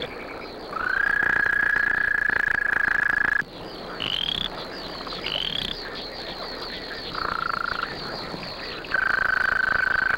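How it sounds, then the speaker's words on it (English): A mating chorus of frogs and toads: several long, high, buzzing trills start and stop in turn and overlap one another, close and loud against a busy background of other calls. "Prehistoric ancestors of frogs and toads shattered the primeval silence with their mating"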